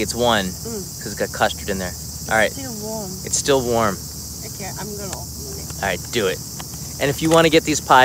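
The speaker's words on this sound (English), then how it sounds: "You can hear the cicada chirping." Cicadas in Hibiya Park during a Japanese summer give a steady, high, shrill drone that runs the whole time beneath close conversation.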